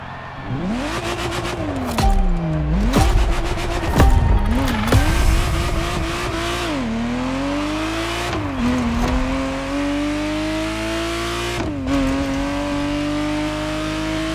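A Ferrari Testarossa in the racing game The Crew Motorfest revs loudly, its engine note rising and falling through gear changes with brief tire squeals, continuous and close throughout.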